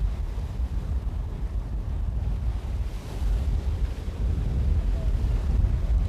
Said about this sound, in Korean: 바다는 거칠어지고 심상치 않은 쇳바람도 좀처럼 잦아들지 않는다.